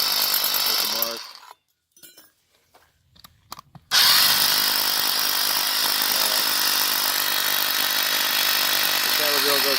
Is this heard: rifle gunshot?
no